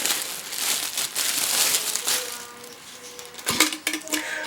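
Close crinkling and rustling of packaging as an acrylic box is unwrapped, with scattered hard clicks and taps of plastic, busy throughout and ending in sharper knocks.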